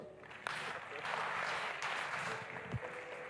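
A church congregation at a Sunday worship service applauds to acclaim Jesus, with steady dense clapping and crowd voices filling the room for several seconds.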